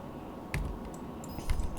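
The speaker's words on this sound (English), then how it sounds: "I can't see my fucking keyboard, so I keep hitting the wrong hotkeys" Computer keyboard typing during a game stream, a few soft scattered key clicks close by under a low background hum.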